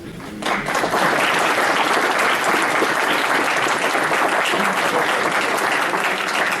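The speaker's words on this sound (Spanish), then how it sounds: "vamos a recibirlo con un fuerte aplauso" Audience bursting into sustained applause to welcome a speaker, a dense, even wash of clapping that starts abruptly and holds steady without letting up.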